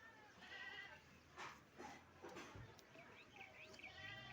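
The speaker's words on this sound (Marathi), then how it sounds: "आज हे वासरू बोंबून राहिले इकडे बसलं आहे" A young calf, a newborn, bawls in drawn-out calls, faint and somewhat distant, over a low background hum, during rainy weather.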